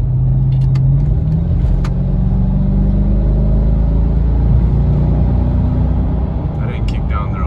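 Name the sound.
Mercedes ML55 AMG engine accelerating at about half throttle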